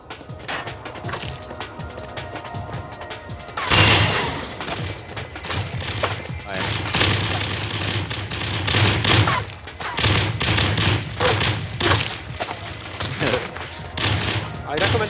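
Rapid gunfire in an EVE Online game demo, dense repeated shots and crashes in loud bursts after a quieter start, with a voice talking over it.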